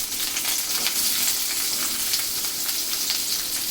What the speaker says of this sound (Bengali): এখন এগুলো পেঁয়াজগুলি আমি তেলে দিয়ে দিচ্ছি